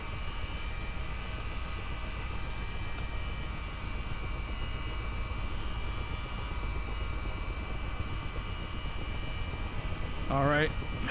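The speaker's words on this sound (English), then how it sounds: "Right there, engine 1 is kicking on." Chinook helicopter engine spinning up in Microsoft Flight Simulator 2024, a continuous, moderately loud turbine whine and rumble, with a brief rising chirp near the end.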